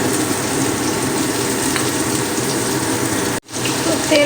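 Continuous hissing sizzle of hot white cooking oil in a pan as salt is added, steady throughout, then a brief cut before the crackling resumes.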